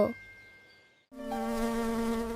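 A mosquito buzzing sound effect: a thin, steady, high-pitched whine that fades, cuts out briefly, then returns louder and holds close and constant, with no voices.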